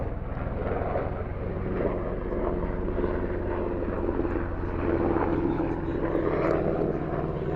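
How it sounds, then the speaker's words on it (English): A helicopter passes overhead, its steady loud rotor and engine drone filling the whole stretch without pause. "I'll wait till this chopper passes."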